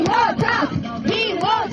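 A group of guests at a birthday jubilee party in Tsqaltubo shout and cheer together in loud, repeated rising-and-falling chant bursts, close by and with no other sound underneath.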